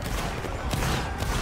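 Musket volleys crack out in a Roblox Napoleonic wars battle between Italy and Naples, a dense, loud, continuous crackle of overlapping shots.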